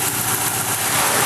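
A 1987 Plymouth Caravelle, long parked and just jump-started, idles steadily, its low engine rumble and faint vibration continuous and close, with no voices over it.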